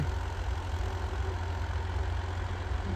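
A tractor engine runs steadily at about 2000 rpm, a continuous low rumbling drone with no pauses, close and fairly loud throughout.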